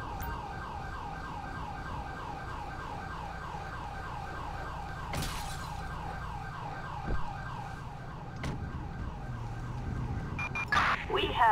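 An ambulance siren in the video game Grand Theft Auto V wails in a rapid, steady repeating yelp throughout, with scattered clunks and thumps near the end.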